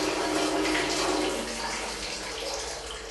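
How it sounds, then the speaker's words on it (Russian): Water gushing steadily from a tap in a women's prison basement, a continuous rushing splash that fades slightly toward the end, heard alone. "Это вода так идет у нас."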